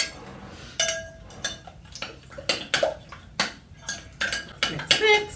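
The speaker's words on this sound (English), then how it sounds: "So let's get this all mixed together." Batter in a bowl with flour being mixed in, heard as a series of close, rhythmic clinks and scrapes of a utensil against the bowl, roughly one every half second, with soft gaps between strokes.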